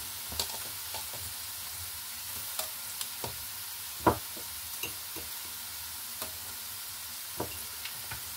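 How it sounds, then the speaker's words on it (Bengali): Dried fish (shutki) fries with onions in a pan, a soft continuous sizzle under occasional sharp knocks and scrapes of a spatula, fairly quiet and close. "পেঁয়াজ দিয়ে হচ্ছে এটা আমি একটু ভেজে নিব হালকা শুটকিটা"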